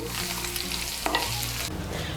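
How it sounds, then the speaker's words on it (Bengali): Fried young jackfruit sizzles in a pan of hot mustard oil while pieces are stirred and lifted out, giving a continuous close frying hiss with a few scraping clinks. "এঁচোড়টাকে ভেজে নিয়েছি, এখন এঁচোড়টাকে তুলে নিচ্ছি।"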